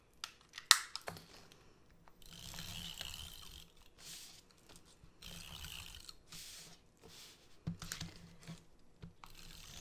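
Tape pulled off a roll and pressed onto one side of thin scrapbook paper makes soft ratcheting rasps and crinkly tearing in short bursts, close and quiet, with pauses between strips.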